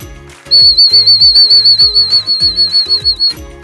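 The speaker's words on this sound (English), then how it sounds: "it's a bunch of repetitive little blasts, and I kind of use my diaphragm to put a little trill to it" A dog recall whistle, used in training a hunting puppy, sounds loud and close as a long trilling tone broken into rapid repeated short blasts, with a steady rhythmic pulsing underneath.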